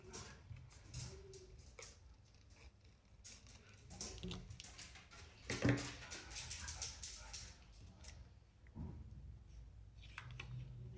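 Scissors cutting out a paper card shape, close quiet snips and rustling paper in short irregular bursts, with faint handling noises between cuts.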